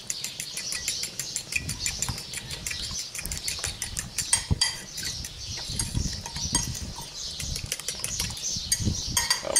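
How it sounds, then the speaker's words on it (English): French toast egg batter with salt is whisked in a bowl, a fast, steady patter of close clicking taps against the bowl that continues without pause, with no talking. "We'll mix that up."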